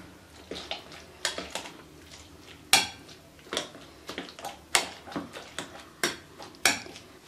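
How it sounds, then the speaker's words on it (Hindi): Roasted brinjal for bharta is coarsely mashed in a metal bowl, each press giving a soft wet squish with a clink of the masher against the pot, in an irregular rhythm of about a dozen strokes, close up. "अब मैं इसको मोटा मोटा मैश करूँगी, ज़्यादा बारीक नहीं करना"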